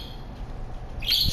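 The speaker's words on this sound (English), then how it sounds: "You stupid fucking bird." A bird in a horror video game gives a brief chirping call, faint at first, then a sharper tweet at the end of a short moment.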